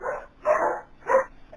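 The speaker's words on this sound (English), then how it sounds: "The dog's barking." A dog barks three times in a steady, fairly close sequence of full, mid-pitched woofs, heard alone with no talking.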